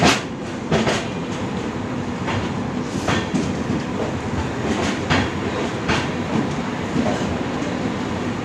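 A Vistadome coach runs on rails between Yesvanthpur and Mangalore, rumbling steadily and loudly. Regular clickety-clack wheel thumps recur about once a second over the drone.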